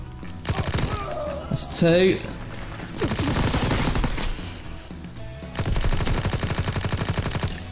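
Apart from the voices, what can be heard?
gunfire in Call of Duty WWII video game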